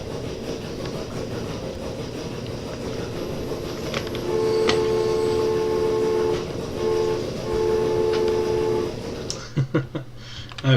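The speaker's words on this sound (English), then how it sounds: "Gotta love the trains coming out." Trains run in the video game Transport Fever, with a continuous rumbling rail roll, a horn sounding in several long tones in the middle, and a few clanks near the end.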